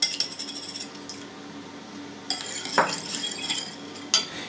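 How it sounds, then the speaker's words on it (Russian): A yeast mixture with salt is stirred in a bowl, heard as light clinks and scrapes of a utensil against the bowl, irregular and close, with quiet gaps between bursts and no voices. "Сейчас размешаем хорошо, чтобы соль тоже растворилась."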